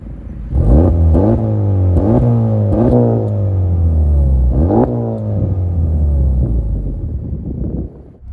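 An Acura Integra Type S with an MBRP exhaust revs hard several times in quick succession, each sharp rise in pitch falling away before the next, loud and close with no talking.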